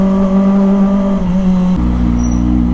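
A Kawasaki ZX25R motorcycle engine revs close by as the throttle is twisted, a loud, sustained high-pitched wail that drops in pitch and settles toward a lower idle near the end.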